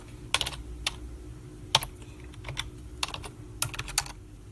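Fingers tap out a password on a computer keyboard, giving sharp, close keystrokes in irregular bursts with short pauses between groups.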